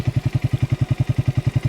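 A Triumph Speed T4 motorcycle engine idles close by, a steady, even low thumping pulse at a quick regular rhythm with a light mechanical clatter on top, no voices.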